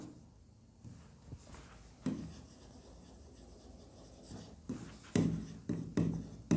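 A pen moves across paper while figures are entered into a balance sheet, giving close, quiet scratching strokes with short pauses and a few louder rubs near the end, alone without talk.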